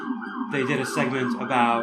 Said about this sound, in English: sorry about the siren, I live along a busy street